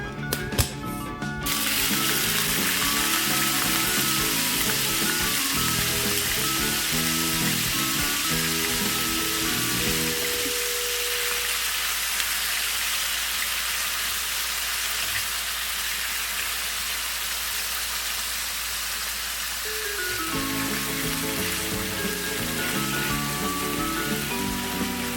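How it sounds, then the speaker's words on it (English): Bite-size pieces of marinated beef rump sizzle steadily in a hot pan for Filipino beef menudo, a dense, continuous crackle with a low background tone, with no talk. "I'll start cooking the beef first."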